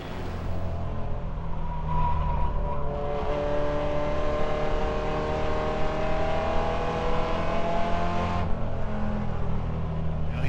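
Super trucks race at Langley Speedway, engines droning and revving in a sustained roar as the pack passes, the pitch rising and holding before fading off.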